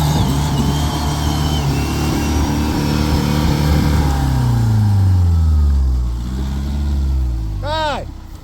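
A labouring car engine with tyres toed inward revs hard, its pitch sweeping down and rising again in strained surges, followed by a quick high whine near the end; close and loud, no voices.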